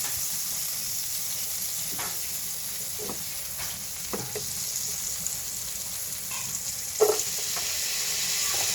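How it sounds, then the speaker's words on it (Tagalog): Garlic, onion and ginger sizzle steadily in margarine in a pan, a continuous bright frying hiss with occasional soft stirring clicks and scrapes, close and moderately loud throughout. "Bawang, sibuyas po, tsaka po luya. Magisa na po."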